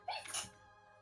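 A single sharp sneeze bursts out close by at a tabletop role-playing game session, a quick breathy intake followed by a loud broadband snap that fades in under half a second into a quiet room.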